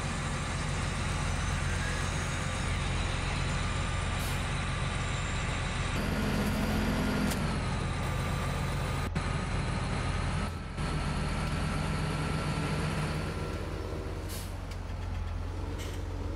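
A larger tractor in Farming Simulator 17 runs with a steady, fairly loud engine drone that holds throughout, with brief hiss-like bursts and small shifts in tone along the way.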